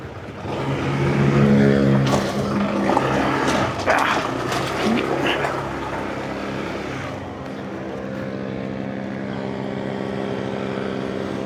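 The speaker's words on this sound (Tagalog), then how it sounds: "Mahirap po tumawid dito basta-basta kasi dahil po mga mabibilis na sasakyan" Fast vehicles rush past on a busy road, loud engine and tyre noise swelling and fading as they go by, leaving a steady traffic hum.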